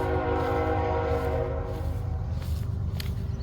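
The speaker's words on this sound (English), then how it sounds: "We're gonna let the train go by." A train rolls past near a home garden, its horn sounding as a long, steady tone over a deep, continuous rumble of wheels and cars, close and loud throughout.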